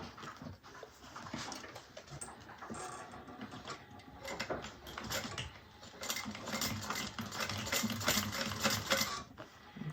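A sewing machine back stitches at the top of a fabric bag, a quiet rapid mechanical chatter of needle and gears that quickens and grows denser toward the end.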